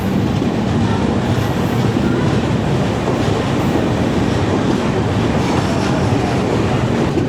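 A Kolkata–Guwahati Garib Rath Express train runs along the Sealdah main line near Dum Dum Junction. Its wheels rumble steadily and loudly, with a continuous rattling clatter and no pauses, heard from on board.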